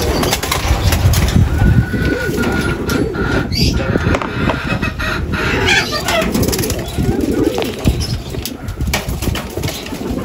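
Racing pigeons coo and wings flap in short bursts close by as a bird arrives at a derby in Ilagan, Isabela, amid a busy outdoor background with occasional voices.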